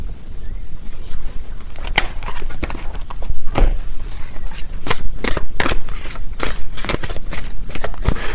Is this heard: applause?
no